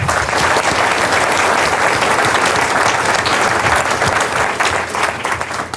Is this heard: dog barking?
no